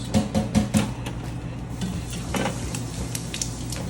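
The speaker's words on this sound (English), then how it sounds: "And we're going to start sauteing this." Quail sautéing in a pan with white wine gives a low, steady sizzle, with a quick run of metallic clinks and scrapes at the start and a few more later.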